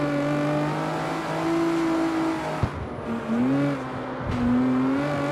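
A car engine revs and holds steady drifting tones in the street racing game CarX Street, with pitch dips and rises as throttle shifts mid-slide, fairly close and moderate in level.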